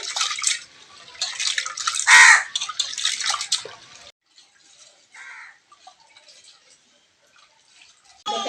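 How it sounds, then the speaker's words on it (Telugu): Lentils for a village-style ridge gourd dal being rinsed by hand in water, with splashing and swishing bursts in the first half, then quieter sparse drips and rustles, all close up. "పప్పు ఇలా నీట్గా కడుక్కోవాలండి"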